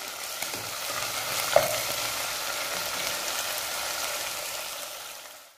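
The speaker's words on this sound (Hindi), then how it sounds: "अच्छी तरह अदरक और लहसुन के पेस्ट को फ्राई करेंगे 2 से 3 मिनट के लिए" A steady, close sizzle of ginger garlic paste frying in a hot pan, with a brief clink of a utensil partway through and no voices.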